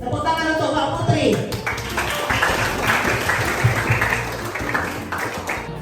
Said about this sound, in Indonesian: Tepuk tangan untuk Kak Putri.